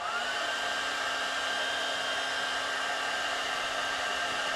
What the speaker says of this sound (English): I guess she's found her hairdryer.